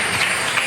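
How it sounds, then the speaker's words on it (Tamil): Audience at an evening session of a church family retreat gives a short, loud burst of steady applause. "கைத்தட்டிடலாம்."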